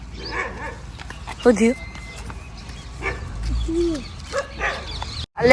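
A dog barks in a few short bursts, close by, mixed in with near-constant talking.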